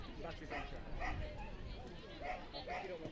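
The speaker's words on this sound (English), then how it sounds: "Apparently normally a quiet dog is Kerin, but you'll find that in agility not so much" A five-year-old Cocker Spaniel barks repeatedly at an agility event, the yips rising over a busy crowd and close commentary.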